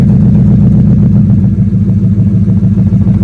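A Ford F100 pickup's engine idles steadily just after starting, a loud, close, continuous low rumble with a faint rhythmic clatter and no talking over it.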